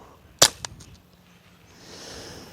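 A single suppressed shot from a Ruger Mark IV pistol fitted with a Form 1 suppressor, a sharp close crack followed by a short fainter echo, then quiet outdoor background.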